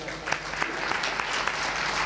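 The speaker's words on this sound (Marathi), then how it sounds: "खरंच दादासाठी एकदा टाळी वाजवा." Audience clapping at a devotional Ram Katha discourse in Alandi, steady dense applause lasting about two seconds, with a few sharper claps standing out and a faint voice underneath.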